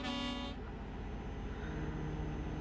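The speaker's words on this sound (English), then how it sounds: "That was his air horn." A truck air horn blasts once in Euro Truck Simulator 2, a loud tonal toot that cuts off after half a second, leaving steady road and engine rumble beneath.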